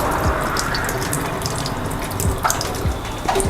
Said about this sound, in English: I'm washing my cinnamon leaf.